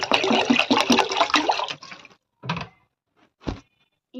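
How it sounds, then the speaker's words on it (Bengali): Water is poured into a cooking pot for boiling cut pieces for homemade french fries, a splashing stream of about two seconds, then a few brief clunks of the pot with quiet gaps between. "হাঁড়ির মধ্যে দিয়ে দেবো পানি।"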